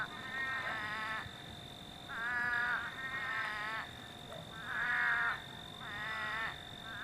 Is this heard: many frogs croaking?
yes